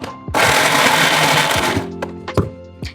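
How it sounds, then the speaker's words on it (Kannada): A kitchen mixer grinder whirs loudly for about a second and a half, grinding brinjal chutney with half a lemon, then stops, followed by a few knocks and clunks of the jar. "ನಿಂಬೆಹಣ್ಣು ಹಾಗಾಗಿದೆ, ಮಿಕ್ಸಿ ಮಾಡ್ಕೊಳ್ಳೋಣ."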